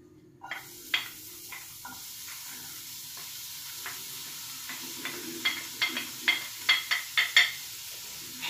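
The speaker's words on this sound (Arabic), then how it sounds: "غادي ندوز باش نقلي هاد البصيله مشلضه مع فلفله حمراء مع فلفله خضراء" Chopped onion fries in a pan with red and green peppers, giving a low steady sizzle broken by a run of sharp utensil taps and scrapes that grow quicker and louder toward the end, close by.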